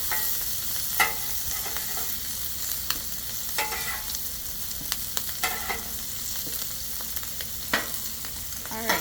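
Bacon strips fry on a Blackstone griddle with a continuous soft sizzle, punctuated by occasional sharp metal spatula scrapes and taps, close by.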